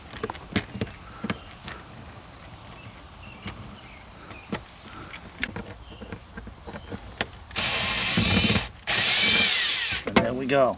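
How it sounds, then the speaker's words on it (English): A power drill runs in two loud bursts, unscrewing a screw from a car cupholder panel, after a stretch of quieter clicks and handling noises. "I'll go ahead and take this screw out."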